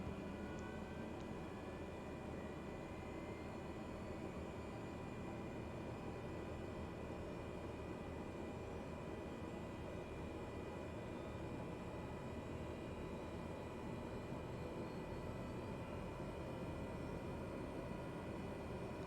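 Turboprop engine of a Cessna Grand Caravan starting up in Microsoft Flight Simulator 2020, a steady, dense roar and whine holding constant throughout with no talk over it.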